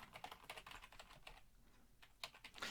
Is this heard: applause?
no